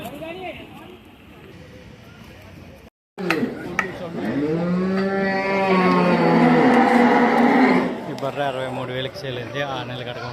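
A buffalo at the Sunday buffalo market in Erragadda, Hyderabad, lets out a long, loud, close moo after a quieter stretch of market bustle.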